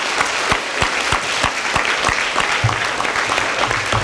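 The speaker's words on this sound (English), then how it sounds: "how about one more round of applause for all of our presenters and performers today?" Applause from a school assembly audience honoring presenters and performers, a dense burst of many hands clapping loudly and steadily for several seconds.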